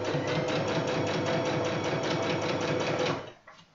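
A sewing machine stitches a fabric wallet-style cushion cover with a steady, close, rhythmic whirr for about three seconds, then stops abruptly and leaves only faint handling noise.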